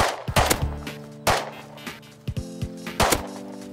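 Gunfire in the survival game Rust: a run of sharp, close cracks fired in uneven bursts, some shots landing in quick succession and others spaced apart, with no talk.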